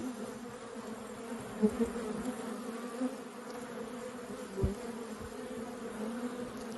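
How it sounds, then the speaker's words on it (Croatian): A steady, droning hum of many honeybees buzzing close by at a hive, with a few louder individual bees passing and no talking. "Pčele se dižu."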